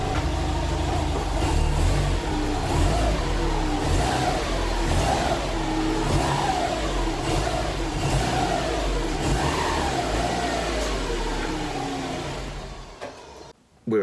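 Subaru Impreza Spec C pulling away onto the road, a steady mid-pitched engine note rising through gears for about twelve seconds before fading out.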